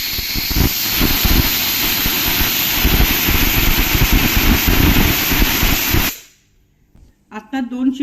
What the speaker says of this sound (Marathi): आता 2 शिट्ट्या झाल्या आहेत.